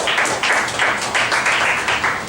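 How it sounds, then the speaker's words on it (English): An audience gives a round of applause for Michael Garvin, the Minister of the Interior, at a church tabernacle gathering: dense, steady clapping from many hands that swells in waves, loud and close throughout. "give a round of applause to Michael Garvin"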